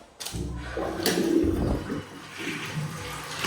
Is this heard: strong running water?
yes